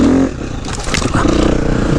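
A KTM 350-EXC dirt bike engine revs and labours close up while riding over a hill obstacle, with steady engine drone, throttle surges and some scraping clatter, loud and continuous.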